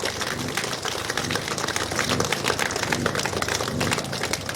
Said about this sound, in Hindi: सभी बच्चे जोर से इनके लिए इनकी स्वागत में जोरदार तालियां बजाएं